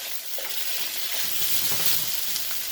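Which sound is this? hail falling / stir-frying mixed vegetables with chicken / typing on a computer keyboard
stir-frying mixed vegetables with chicken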